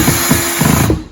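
A power drill drives a screw into a pre-drilled hole for a blind bracket, a loud close-up whine with motor pulses and short bursts before it winds down at the end.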